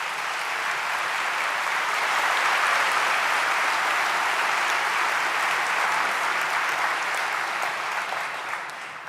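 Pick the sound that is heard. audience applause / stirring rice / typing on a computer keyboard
audience applause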